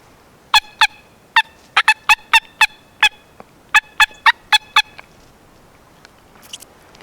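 A voice using a diaphragm mouth call imitates a turkey cut: about fourteen sharp, high, clipped yelps in quick irregular bursts, loud and close against a quiet background.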